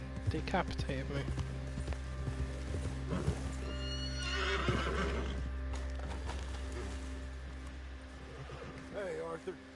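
A horse in Red Dead Redemption 2 whinnies and clops its hooves close by, the neigh rising over steady game ambience while someone talks intermittently.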